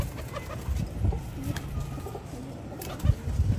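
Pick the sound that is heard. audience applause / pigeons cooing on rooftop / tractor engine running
pigeons cooing on rooftop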